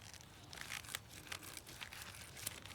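A succulent stem is cut from the mother plant, giving faint, close crinkling and snapping sounds in short irregular bursts, with no voices.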